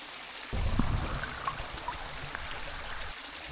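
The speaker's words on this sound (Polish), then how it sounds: "Za mną jest piękny strumyk." A small babbling stream in the Polish countryside flows with a steady, soft wash of water and light trickling, quiet and continuous for a few seconds with no one talking.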